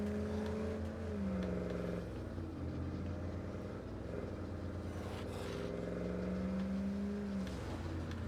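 In State of Decay 2, a car engine hums and revs steadily for the whole clip. The tone rises and falls as the vehicle drives, with no talk heard.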